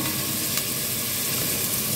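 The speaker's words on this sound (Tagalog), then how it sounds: "Nagsote ako ng sibuyas." Onions sautéing in a hot pan, a loud continuous close sizzle with faint stirring and no voices.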